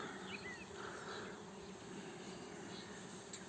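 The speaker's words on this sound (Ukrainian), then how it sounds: "Зараз бджілки ще трошки носять мед." Bees forage on blooming phacelia flowers in a field, giving a faint, steady outdoor buzzing hum that continues throughout.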